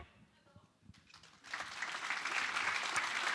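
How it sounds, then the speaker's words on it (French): Applause from a seminar audience after a short film, starting quietly and swelling into steady, dense clapping that fills the room after the first second and a half. "Et voilà des applaudissements pour ce petit film"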